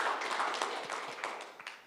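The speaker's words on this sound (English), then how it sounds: "could everybody give Joe a round of applause?" Indoor audience applause at a technical writing conference session, a dense patter of clapping that fades gradually over two seconds.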